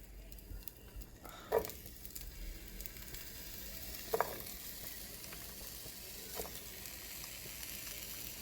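Peppers and spring onions sizzle in a hot pan while a rasta pasta dish is cooked. The steady soft hiss runs throughout, with a few sharp clacks of stirring or utensils against the pan, and no talking.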